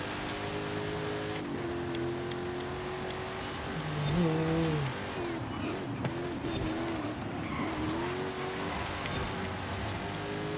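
A race car drifting in the Forza video game: a continuous engine note rises and bends in pitch as the car slides, with a brief squealing tone in the middle and no talk over it.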